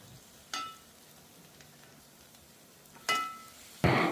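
Crushed shallots and curry leaves drop into hot oil for a crab roast, giving a low, steady sizzle broken by three sharp crackling bursts as ingredients hit the pan, with no talking.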